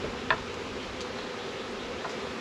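Bees around an open eight-frame beehive keep up a faint, continuous low hum, with a few soft ticks and clicks from hive frames scattered through it.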